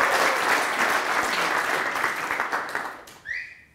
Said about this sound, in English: Give a great applause to Bart